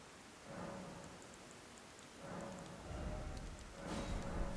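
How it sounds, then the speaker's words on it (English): Steady rain falling in Elden Ring, an even wash of soft hiss that swells in waves and grows a little heavier toward the end, with no talk. "the sound of rain is just annoying me"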